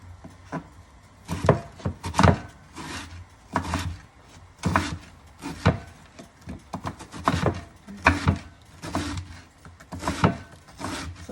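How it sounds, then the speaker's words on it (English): A knife chops onion on a cutting board with about a dozen sharp, irregular knocks spaced across the stretch, close and clear with no talk over them. "I'm gonna go ahead and chop some of my onion."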